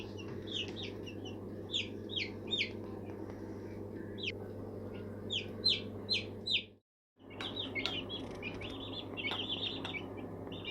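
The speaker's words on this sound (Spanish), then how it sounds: "pollito" Small chicks peep in quick high bursts over a constant low hum, repeated chirps scattered across the clip with a brief silent gap.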